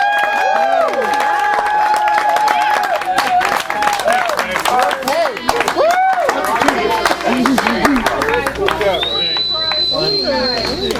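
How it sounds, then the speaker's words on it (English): A crowd claps and cheers loudly throughout, with whistles and voices rising over the steady applause, at a victory party for the Great Race classic car rally. "I want you to give a round of applause."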